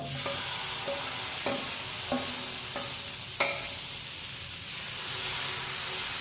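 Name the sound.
dosa batter sizzling as it is poured onto pan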